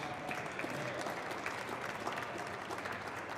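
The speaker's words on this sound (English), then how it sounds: "He deserves a special round of applause." A round of applause at the finals of an individual squash championship tournament, steady dense clapping from an indoor crowd, continuous and moderately loud throughout.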